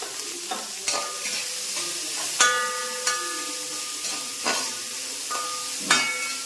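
Vegetables sautéing for broken wheat upma, with a steady frying sizzle and a spoon scraping and stirring the pan in regular strokes, close up with no talking.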